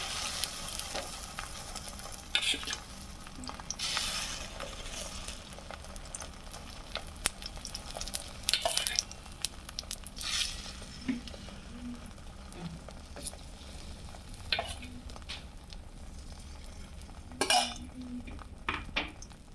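Semolina and egg mixture for a soy roll poured into a pan, with soft frying sizzle, pan and utensil clatter and a few sharp scrapes and knocks scattered throughout.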